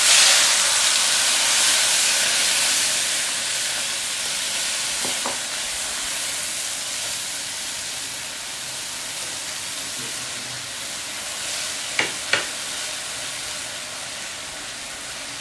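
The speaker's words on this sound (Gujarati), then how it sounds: "એકાદ મિનિટ માટે આવી રીતે હલાવવાની છે તેલમાં જરા સતળાઈ જાય" Steady broadband sizzling of soaked moong lentils frying in hot oil, with a couple of faint scraping clicks from stirring near the end; no voices.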